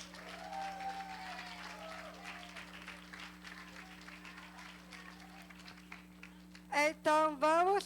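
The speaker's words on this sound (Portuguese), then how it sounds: "Então vamos receber com todo carinho, respeito e muitas palmas, Alex Duarte!" Audience applause at a lecture on trisomy 21, a steady spread of clapping from a seated crowd running under a voice, then a few loud bursts of cheering or shouting near the end.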